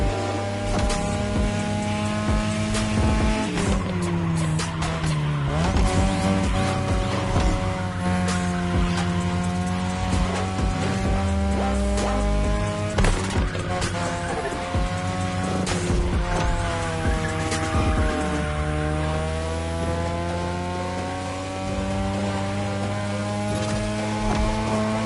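Touge racing car in The Crew Motorfest driven hard along a mountain road, engine loud and continuous with rising and falling revs through gear changes, tire squeal and skidding throughout.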